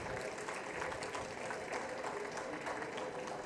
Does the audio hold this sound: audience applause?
yes